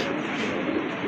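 Fancy pigeons at a racing-pigeon club coo continuously, a dense, close murmur of many birds layered together with no speech over it.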